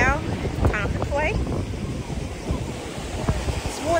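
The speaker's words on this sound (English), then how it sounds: "This is so windy." Strong wind blowing at a sunny beach, gusting across the microphone with rumbling buffets while surf washes in the background and a few brief voice-like sounds rise over the noise.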